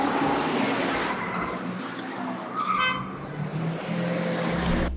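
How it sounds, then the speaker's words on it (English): A car horn honks briefly amid car chase sound design, a short tonal blast in the middle over screeching tires and revving race-car engines. "And let's add this last car horn."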